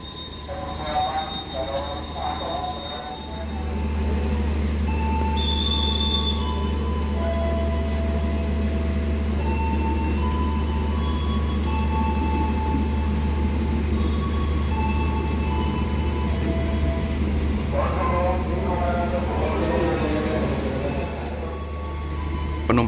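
Purwokerto passenger train with a long set of four executive cars going by on the Indonesian railway, a loud steady rolling roar that swells in after a few seconds and holds close, with some faint squeal and clatter.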